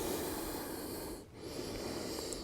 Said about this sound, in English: Deep breathing into the lowest part of the belly that you can.